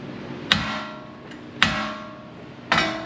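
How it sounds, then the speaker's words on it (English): Three sharp metallic hammer blows on a steering knuckle ring out about a second apart, each followed by a short fading ring, close and fairly loud. "He just wanted to hit with a hammer. Hit the bottom part now."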